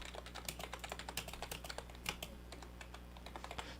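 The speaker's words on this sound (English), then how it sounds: "T's typing like a furious madman over there." Fast, rapid typing on a computer keyboard clatters in a dense, irregular stream of sharp key clicks, quiet and close with no talking.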